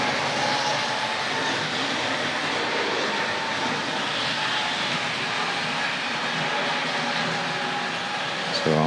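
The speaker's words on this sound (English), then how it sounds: "we'll decide which station we're going to stop the diesel locomotive at." A Tri-ang model railway diesel locomotive from an old-time Western train set runs steadily on its track, giving a faint, continuous rolling whir with no break over about nine seconds.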